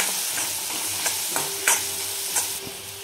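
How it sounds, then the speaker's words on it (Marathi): Spice powders, chili, coriander and cumin, stirred in a frying pan with radish, with steady scraping strokes and a soft sizzle up close and no talk over it. "धने पावडर आणि जिरे पावडर, हे सर्व मिक्स करून घ्यायचं आहे आपल्याला।"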